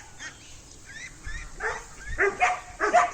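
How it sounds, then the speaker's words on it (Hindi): A dog barks several times in quick, rising succession, near and fairly loud, with faint whimpering yips before the barks. "जब जो चीज़ देखते हो उस पर भौंकना शुरू कर देते हो"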